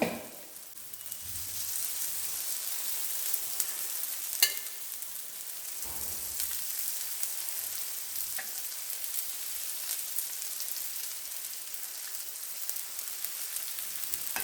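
Raw banana slices coated in semolina fry in oil with a steady, hissing sizzle, close and even throughout, with a few faint utensil taps and no voices.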